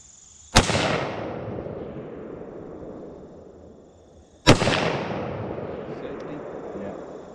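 Two loud gunshots at a shooting range, sharp cracks about four seconds apart, each followed by a long echoing decay.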